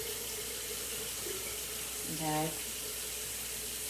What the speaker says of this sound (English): I'm going to put water in here.